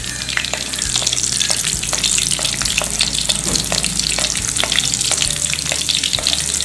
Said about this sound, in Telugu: కాగాక కొన్ని పచ్చిమిరపకాయలు వేసుకొని ఫ్రై చేయాలి.